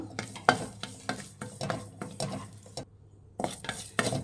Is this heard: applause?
no